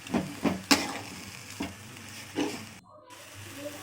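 Cooked chickpea greens and crushed peanuts being stirred and mixed in a pan, with several distinct scraping, clattering strokes over a faint sizzle and a brief silent gap.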